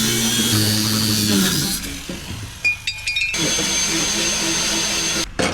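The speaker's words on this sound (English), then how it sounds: "sand it down" Power sanding on a welded 10-gauge steel spare tire mount, a loud continuous grinding hiss that cuts out and restarts with brief gaps, close by.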